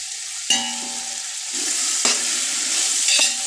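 Tomatoes sautéing in a hot pan for chicken dum biryani: steady close sizzling broken by a few sharp spoon-against-pan clacks as they are stirred, with no talk.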